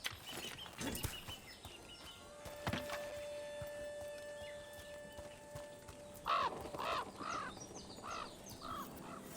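A crow cawing in Dragon Age The Veilguard: several harsh caws close by in a short run partway through, after a few earlier clicks and tonal game sounds, with no talk.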